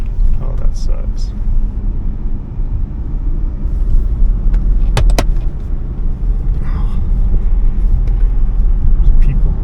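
A 2013 Audi A8L with the 4.0T engine driving at speed, a loud, close, continuous low road and engine rumble from inside the cabin, with a few brief clicks over it.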